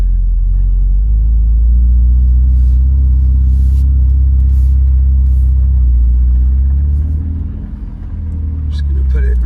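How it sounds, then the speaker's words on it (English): A Ferrari 488 engine idles and rumbles at low pitch while the car is turned around, loud and steady, dipping briefly near the end. "I'm going to turn the car around."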